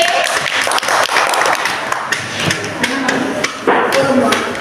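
Children clapping their hands together during a fruit-colouring activity, a burst of quick, uneven claps spread across the clip with a lively, slightly messy rhythm, mixed with background voices.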